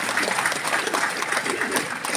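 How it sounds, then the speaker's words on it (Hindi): Audience applause at a motivational business gathering in a hall, a dense continuous wash of clapping from a large crowd, steady and moderately loud throughout. "ताली बजाइए हमारी बहनों के लिए"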